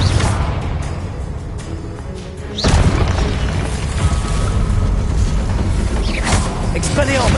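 Confringo blasting spells in Hogwarts Legacy burst with a heavy boom midway, followed by a sustained rumbling, crackling roar with mechanical creaks and whooshes layered throughout.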